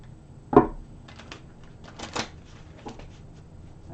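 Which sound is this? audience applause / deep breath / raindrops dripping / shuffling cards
shuffling cards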